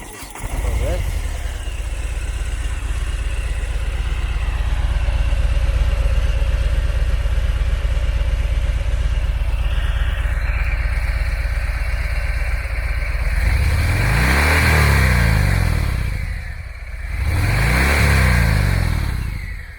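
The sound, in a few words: Harley Davidson Fat Bob motorcycle engine starting, idling and revving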